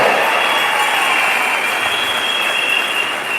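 A dense, steady wash of audience applause after a stage play, loud and continuous for the whole stretch with no pauses or voices.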